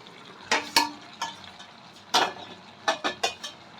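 Metal lid lifted off a pot of simmering vegetables, heard as a handful of sharp, close clinks and clatters scattered over a few seconds above a faint background hiss.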